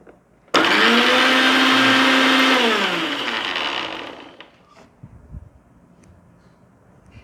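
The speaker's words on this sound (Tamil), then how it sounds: "இந்த மாதிரி ஒவ்வொரு பல்ஸ் சுற்றிட்டு கொஞ்சோண்டு ரீஃபண்ட் ஆயில் ஆட் பண்ணி தான் நம்ம ப்ரிப்பேர் பண்ணணும்." A blender pulses homemade mayonnaise with refined oil in one loud burst of about three seconds, whirring steadily before winding down and fading out, followed by faint handling noise.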